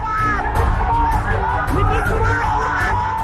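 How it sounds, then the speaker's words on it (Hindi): A large crowd of protesting labourers shouting slogans on a street, with loud continuous yelling and overlapping raised voices throughout, dense and close. "नारेबाजी"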